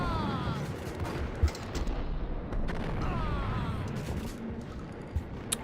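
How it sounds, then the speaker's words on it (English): Shotgun blasts in the Max Payne video game, a few sharp reports standing out over a dense, continuous wash of gunfire and game noise. "Shotguns to the face seem a very appropriate way to deal with bad guys"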